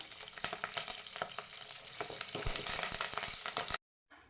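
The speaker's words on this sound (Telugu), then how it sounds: "ఆయిల్ వేడయ్యాక ఇందులో ఆవాలు జీలకర్ర వేసి ఇందులోనే ఎండుమిర్చి కూడా వేసుకుందాం" Mustard seeds, cumin and dried red chillies fry in hot oil with a dense sizzle and sharp popping crackles, close and busy, cutting off abruptly into silence.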